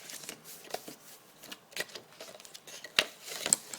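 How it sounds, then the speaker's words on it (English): Soft, quiet rubbing and brushing strokes as folded, scored paper flaps of a mini magazine holder are burnished flat, with irregular light taps and scuffs. "burnishing all your bits, all your flaps"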